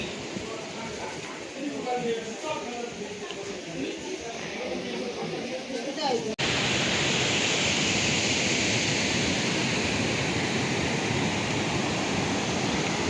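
The Budhi Gandaki river rushes below a suspension bridge on the Manaslu trail near Nyak Phedi. A voice talks over a softer roar at first, then the water swells into a loud, steady broadband hiss that drowns everything else.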